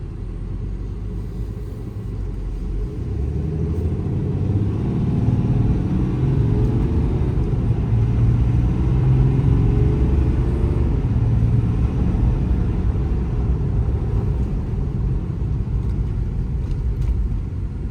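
A 2019 Ram 5500 4WD work truck with a Cummins diesel and an IMT Dominator crane bed drives along, its engine a loud, steady low rumble that swells slightly midway, with no talk.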